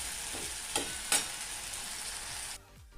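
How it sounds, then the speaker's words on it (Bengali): Tomato, ginger, garlic and onion masala stirred and frying in a pan: a steady broad sizzle with two sharp spatula scrapes near the start, then quieter toward the end. "সমস্ত উপকরণ ভালোভাবে নেড়ে ফেড়ে মিশিয়ে নেব আর কিছুক্ষণ সময় নিয়ে কষিয়ে নেব"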